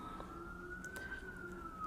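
An ambulance siren wails along a New York street, a steady rising-and-falling tone carrying over low traffic rumble, heard alone without talk.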